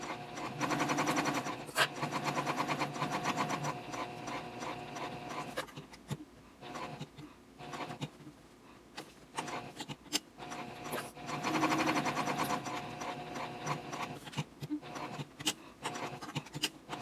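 A sewing machine stitches cork fabric for a cardholder wallet, running in steady mechanical bursts with pauses as the corner is pivoted one stitch at a time; moderately quiet, close, and without talk.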